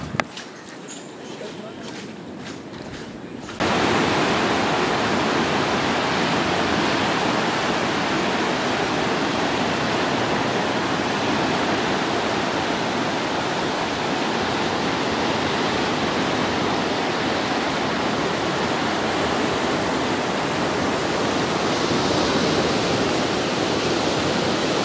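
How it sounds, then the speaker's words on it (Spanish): The Ixcán river in Santa Cruz Barillas, Huehuetenango, swollen after Hurricane Eta, rushes and roars in a loud, unbroken wash of water. A quieter, uneven stretch opens the clip before the full continuous torrent takes over. "el río Xcan es un tremendo río"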